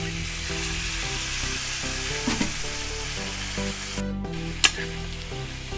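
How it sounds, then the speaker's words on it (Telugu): Beans and potatoes fry in a pan for a homemade beans potato curry, a steady close sizzle running throughout with occasional scraping stirs and a brief clatter near the end. "ఇప్పుడు మనం ఇందులో బీనీస్ వేసుకుందాము, ఒక 1/2 కిలో"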